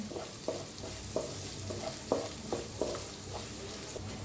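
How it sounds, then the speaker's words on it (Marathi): Garlic and half a spoon of turmeric fry in oil for kadhi, a soft steady sizzle punctuated by regular light scrapes and taps of a spoon stirring the pan. "हिच्यात टाकूया हळद अर्धा चमचा हळद त्याला तेलात छान असं भाजायचं"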